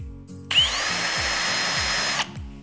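A power drill pre-drills a small angled pilot hole: the motor whirs up sharply and holds a steady, loud, high whine for under two seconds, then cuts off abruptly, alone and close.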